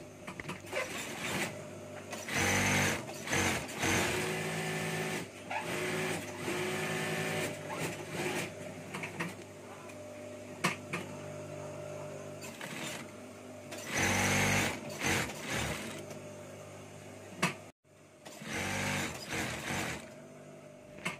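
A sewing machine stitches the middle seam of a lined jacket's pocket, running in loud continuous bursts with brief pauses and a short stop near the end, close to the microphone.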